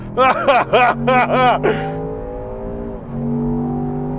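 A Land Rover Defender Octa SUV with a BMW engine roars and climbs in pitch through several rapid gear shifts under hard acceleration, then settles into a steady high drone with one more brief shift.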